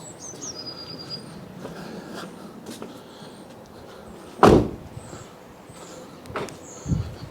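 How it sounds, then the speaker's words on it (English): A single solid thump of a 2013 Fiat 500 car door closing lands midway through a quiet outdoor scene with faint birdsong, followed by a couple of lighter knocks. "Let's close the other door."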